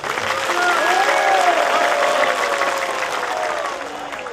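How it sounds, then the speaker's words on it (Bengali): An audience claps loudly and steadily at a cultural stage event, the applause swelling in the middle and tapering slightly toward the end, with faint voices underneath. "আর নিজেদের জন্য একটা জোরে হাততালি।"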